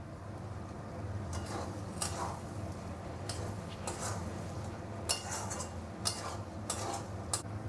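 A utensil clinks and scrapes against a pan as spice masala is stir-fried over medium heat for mutton paya curry, a series of light, irregular taps over a faint sizzle.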